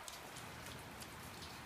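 Steady rain falling outdoors in Los Angeles, a constant even hiss of drops on surfaces at moderate level with no break across the span.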